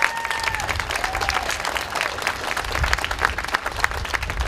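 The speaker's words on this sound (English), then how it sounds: "they deserve the round of applause for what they do every day" Sustained, dense audience applause fills the room at the Philadelphia 2nd Alarmers 100th anniversary event, steady and loud throughout with a faint murmur of voices underneath.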